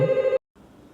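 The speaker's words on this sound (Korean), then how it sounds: "제가 전화가 와서 전화 받고 하겠습니다" A telephone rings with a bright, steady electronic tone that cuts off abruptly, followed by a short silence and then faint low room noise.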